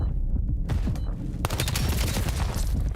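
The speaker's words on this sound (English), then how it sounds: "Kips is shooting on 42 now" Call of Duty esports match gunfire: dense bursts of automatic fire and rapid shots, loud and continuous, growing heavier halfway through.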